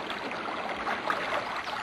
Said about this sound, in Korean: 진짜 물소리가 들려왔다